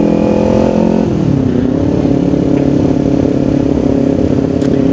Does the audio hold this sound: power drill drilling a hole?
no